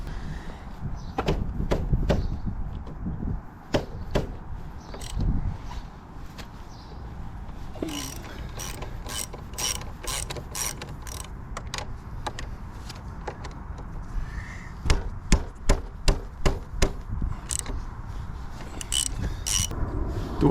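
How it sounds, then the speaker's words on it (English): Two size 14 brake caliper bolts being loosened on a Honda CBR650R front brake: a run of sharp metallic ratchet clicks and tool taps in bursts, close up, with no talking. "removing the two bolts over here, size 14, take the caliper out"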